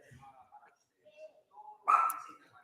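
Dogs bark with one loud, close bark near the end, after a few faint, short whines and yips.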